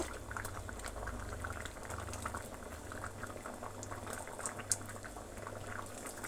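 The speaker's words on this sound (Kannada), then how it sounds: "ಸಾಂಬಾರು ಚೆನ್ನಾಗಿ ಕುದಿಸಿದ್ರಷ್ಟು ಒಳ್ಳೆ ರುಚಿ ಬರುತ್ತೆ" Egg curry sambar boiling in a cooking pot, a steady close bubbling and gurgling with soft popping as the thick liquid simmers, continuing evenly throughout without any talking.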